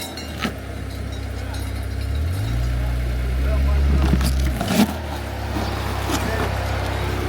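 Off-road vehicle on a rocky backcountry trail toward Crown King, its engine droning loud and close and swelling into a heavy rev midway before easing back, with people talking over it.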